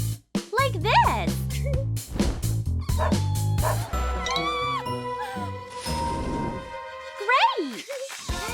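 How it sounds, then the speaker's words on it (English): A small puppy yips, barks and whimpers in quick bursts, close and fairly loud, with a faint jingle like a tag or bell, mixed with music and animated sound effects. "It's just a pup."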